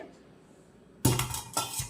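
After a quiet start, a large metal vessel is handled: two sharp clanks about half a second apart, with a ringing metallic rattle.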